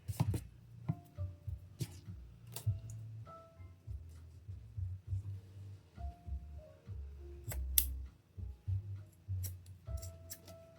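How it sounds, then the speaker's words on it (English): Scissors snipping harness material for a dog, quiet close clicks and cuts scattered irregularly among light handling knocks in a still room. "My good scissors cut better."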